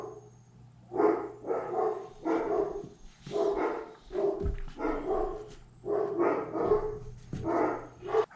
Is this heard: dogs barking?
yes